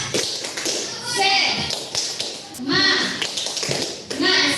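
Children in a classroom clap a rhythmic spirit-clap chant together, with several bursts of sharp, patterned clapping and a few shouted syllables mixed in, fairly close and lively.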